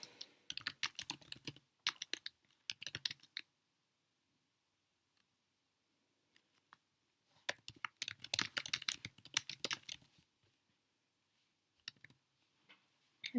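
Rapid bursts of typing on a computer keyboard, dense clattering keystrokes in two main runs separated by silent pauses, with a few stray clicks afterward.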